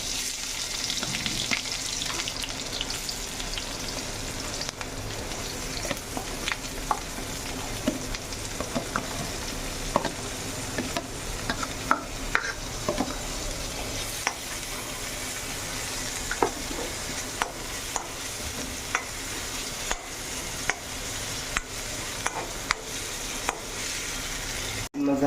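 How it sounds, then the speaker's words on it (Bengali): Onions and chillies fry in hot oil with a steady sizzle, broken by scattered clicks and scrapes of stirring throughout. "মাছটাৰ তেলটো গৰম হোৱাৰ পিছত পিঁয়াজ মৰিচ যি আছে এইটো অলপ ভাজি লওঁ"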